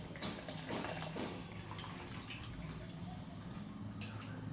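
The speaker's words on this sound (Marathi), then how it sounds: "तर बघा आता पास्ता आपण जाऱ्याने असं नितळून घेऊया" Boiled pasta drained through a slotted spoon, water pouring and splashing back into the pot: a continuous close, uneven trickle and splatter with a few louder gushes, quiet overall, no voices.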